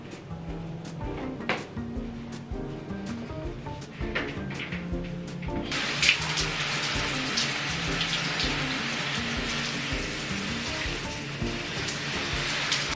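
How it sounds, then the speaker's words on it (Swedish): Shower water sprays down onto a potted houseplant set inside a shower, a steady hissing rush beginning partway through after quieter clatter and handling noises, close and fairly loud. "Så tror jag att jag ska ta in och ställa den i duschen och duscha den"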